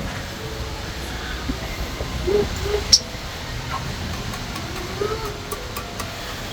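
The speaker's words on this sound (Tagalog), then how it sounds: "Ang lakas ng ulan" Steady broadband hiss of heavy rain pouring down, constant and dense, with a few faint knocks and thumps rising above it.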